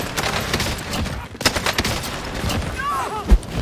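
Rapid automatic AK-47 fire in Warzone, dense bursts of shots rolling through a noisy game mix with one sharp louder crack near the end.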